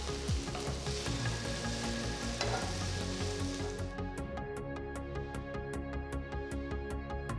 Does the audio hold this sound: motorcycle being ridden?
no